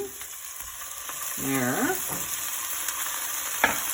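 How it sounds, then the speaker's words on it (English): Tomato sauce with lentils simmers in a pan with a steady, close bubbling sizzle. A brief clatter of stirring and a short spoken word come through midway. "Hear that simmering away."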